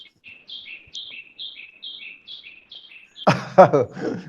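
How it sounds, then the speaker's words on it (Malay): A bird repeats a clear two-note chirp about a dozen times through a mic someone left switched on during an online forum, then a voice cuts in at the end. "Ustaz bunyi burung Ustaz"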